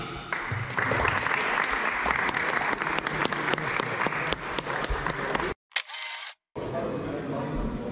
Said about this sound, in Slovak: veľký potlesk aj napriek tomu všetkému si zaslúžia naši rozhodcovia Lukáš a David.